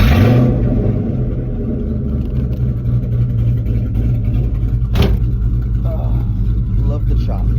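A built, cammed 2001 Ford Mustang rumbles loud and close while driving, its choppy lumpy idle lope pulsing underneath, with a brief sharp knock midway and faint swells of revving near the end.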